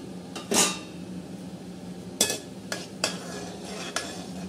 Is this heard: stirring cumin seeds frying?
yes